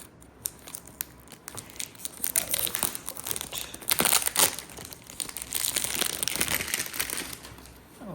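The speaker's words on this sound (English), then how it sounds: "this is one of the hardest cellophanes I've had to unwrap" Tough cellophane is crinkled and torn off a Narciso Rodriguez for Him Bleu Noir Parfum perfume box, close and fairly quiet, with irregular bursts of crackling that grow busier partway through and no talking.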